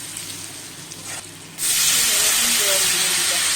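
Water poured into a hot pan while cooking hilsa curry with eggplant: after a quieter opening, a sudden loud hiss and sizzle bursts in and carries on steadily, close by.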